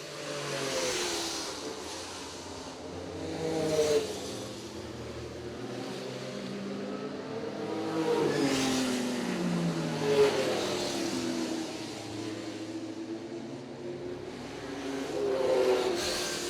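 Porsche race cars racing past at a vintage road-racing event, engines swelling and fading in repeated pass-bys with rising and falling pitch, heard at moderate distance without voices.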